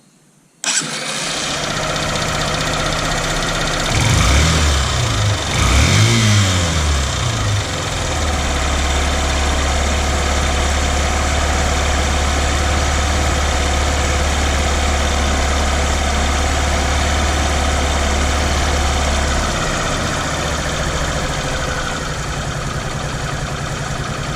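A Honda CB125E motorcycle with a freshly serviced carburetor fires up with a sharp start, revs briefly a few times, then settles into a steady, close, loud idle that drops slightly in pitch near the end during idle-screw adjustment.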